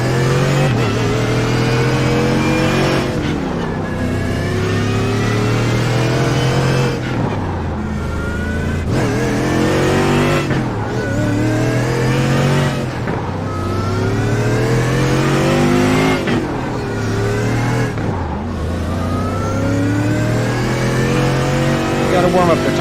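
A race car in the iRacing sim at Canadian Tire Motorsports Park screams through the gears, with the engine revving, climbing in pitch and dropping at each of several shifts and braking points, loud and up front throughout.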